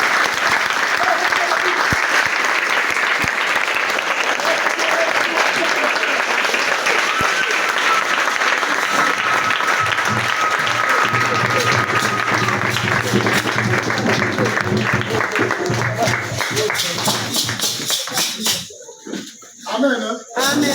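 A church congregation applauds loudly and continuously, dense clapping filling the room for about eighteen seconds before thinning into scattered claps and murmurs near the end.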